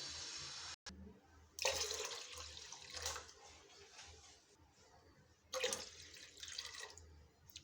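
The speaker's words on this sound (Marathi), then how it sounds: "मी यामध्ये पाणी टाकून घेत आहे" Water poured into a pressure cooker in a few bursts, splashing and gurgling up close with short pauses between pours.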